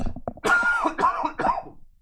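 A person still recovering from a month-long cold lets out three quick, harsh coughs about half a second apart, close and fairly loud, with nothing else around them.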